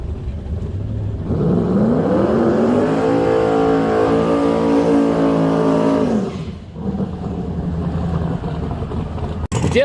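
A race car roars past at a heads-up drag racing event, its loud engine note climbing in pitch and holding steady for several seconds before cutting away, leaving the track ambience behind it.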